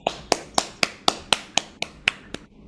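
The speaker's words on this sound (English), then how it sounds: "let's give a round of applause" Sharp, evenly spaced claps or taps, about ten in steady rhythm, close and crisp in an online meeting's applause, sounding like one person rather than a crowd.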